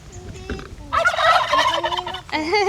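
A turkey gobbles loudly nearby in rapid, rattling bursts, with a shorter second gobble following.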